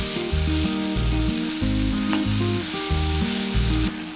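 Blended tomato puree hits a hot pan for a sesame chicken sauce and sizzles loudly and steadily from start to finish, close up with no talking, over a layered, tonal background.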